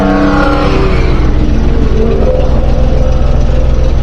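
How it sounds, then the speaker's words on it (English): A Yanmar 3GM30F three-cylinder sailboat diesel runs on land near operating temperature, a steady loud close rumble with no change in pace and no talk. "I'm just about done running the engine."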